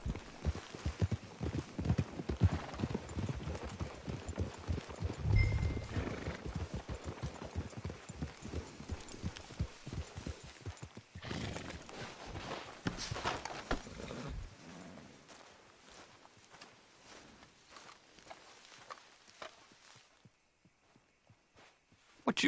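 Horse hooves clip-clop steadily in Red Dead Redemption 2, a continuous rhythmic trot under faint game ambience that thins out and fades toward the end.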